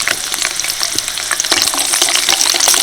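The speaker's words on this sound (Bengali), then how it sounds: "মটরগুলোও কিন্তু তেলের মধ্যে ফাটছে" Peas fry in hot oil inside a strainer, giving a loud, busy sizzle full of sharp pops and crackles as they are stirred. The sound stays close and continuous with no talking.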